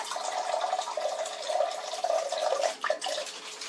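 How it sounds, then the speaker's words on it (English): Tap water pours steadily into a measuring cup for cowboy chili cornbread, a continuous close splashing stream that thins and wavers near the end. "So, put in a cup of water."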